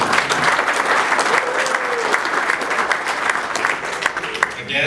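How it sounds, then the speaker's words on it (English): A city club luncheon audience gives sustained applause for introduced officers, a dense, even wash of many hands clapping at moderate volume with a few brief voices beneath it. "Give them a big hand."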